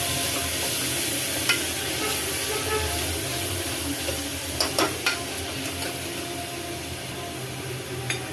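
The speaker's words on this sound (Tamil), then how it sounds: "இப்ப இதையும் சேர்த்து நல்லா வதக்கிக்கலாம்." Steady sizzling from a pan as onions and tomatoes fry for a green salna side dish, with occasional stirring scrapes and clinks over a constant hiss.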